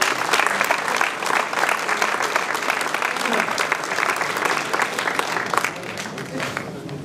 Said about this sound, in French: On peut les applaudir aussi.